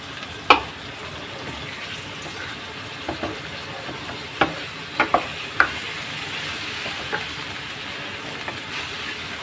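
Steady sizzling of chicken frying in ginger garlic paste in a pan, with a few sharp scraping clicks from a utensil stirring now and then.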